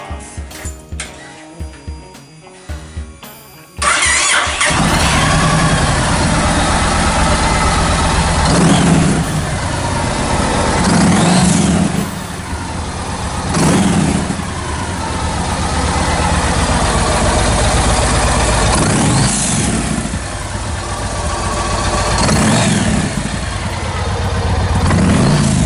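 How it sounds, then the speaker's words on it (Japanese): A Yamaha XV1900 Raider motorcycle engine cranks briefly, then catches and settles into a loud, deep, lumpy idle with occasional blips of throttle, close by. "次エンジンかけたいなと思います。"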